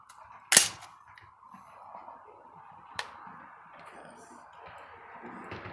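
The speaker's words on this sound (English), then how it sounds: "This is the first time I dry fired it, actually." An ATI Bulldog bullpup shotgun is dry fired: one sharp, loud mechanical snap followed a few seconds later by a fainter click, with quiet handling noise between.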